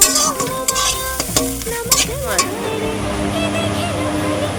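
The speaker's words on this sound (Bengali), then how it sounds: "বাঁধাকপি ভাজা আরেকটু আমি ভাজবো, আর একটু রসটাকে মারবো" Cabbage frying in a pan, loud scraping stirs and a steady sizzle heard close, with music and tonal sounds running over it throughout.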